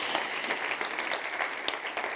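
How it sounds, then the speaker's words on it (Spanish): Audience applause at a Spanish-language science talk event, a steady dense wash of clapping throughout, moderately loud with no talking over it. "Muchas gracias por esos aplausos"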